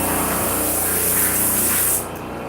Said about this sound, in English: The compressor is on.